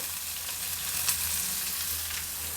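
Onion and chana dal fry in a pan with a steady, close sizzle that holds evenly for a couple of seconds, with one brief brighter crackle partway through and no voices.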